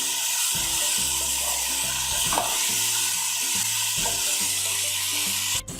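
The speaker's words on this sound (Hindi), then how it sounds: "इसको अच्छे से मिक्स कर दूंगी" Tomato sauce being mixed into vegetables frying in a pan for masala pasta, a steady sizzle under intermittent stirring scrapes and a faint humming tone, ending with a sharp click.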